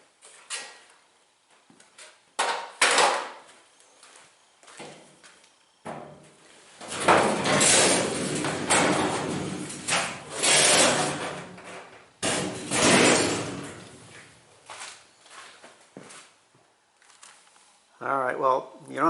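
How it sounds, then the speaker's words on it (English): Outer shell being taken off a top-load washing machine, with loud scraping, sliding and clunking panel noises and scattered knocks and ticks, mixed with speech. "I'm just going to take the shell off right now"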